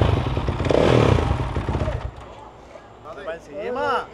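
A motorcycle engine rumbles loudly and close as it rides past, fading after two seconds, followed by voices talking and exclaiming.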